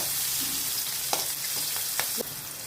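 Sliced onion sizzling steadily in hot oil for chilli papadam fry, a close, continuous hiss with a few sharp clicks of a utensil against the pan.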